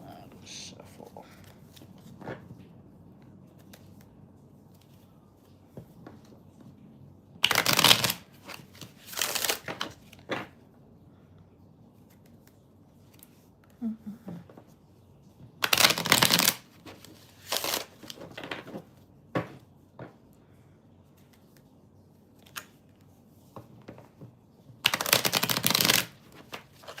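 Tarot cards being shuffled in bursts, several loud riffling flurries of a few seconds each separated by quieter pauses with soft handling sounds, while a person talks at low level in between.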